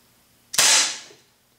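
A single sharp, close crack from a Gamo PT-85 blowback pellet pistol, followed by a quick fading tail and then quiet.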